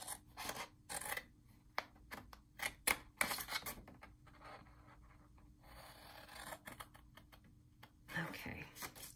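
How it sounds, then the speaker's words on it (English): Scissors snip paper for a handmade wallet mini album flipbook, a run of sharp, close cuts in quick bursts with short pauses between them and a final cluster of snips near the end. "so that's the last snip"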